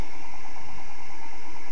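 An experimental Bedini three-phase DC pulse motor spins on its chassis, a steady, close mechanical hum and whir with no change over the short stretch.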